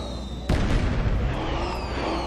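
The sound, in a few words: fireworks in Star Trek Online video game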